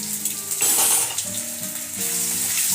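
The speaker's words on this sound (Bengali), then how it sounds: "আদাটা ভেজে নিচ্ছি।" Ginger paste with a little cumin frying in a pan, giving a steady close hiss and sizzle over the whole stretch, with faint background tones and no talking.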